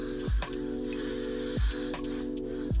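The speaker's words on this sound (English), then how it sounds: "Now I'm going to be spraying some Got2b spray all over." A Got2b hairspray aerosol can sprays in short hissing bursts, close and fairly loud, with brief pauses between them.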